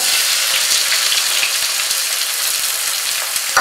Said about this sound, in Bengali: ফোড়নটা ভালো মতো ফ্রাই হয়ে গেলে এর মধ্যে আমি কুচানো পেঁয়াজ দিচ্ছি।